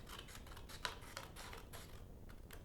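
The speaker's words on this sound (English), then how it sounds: "I'm just going to take my scissors" Scissors snipping through paper in a few quiet, close cuts with soft rustling in between.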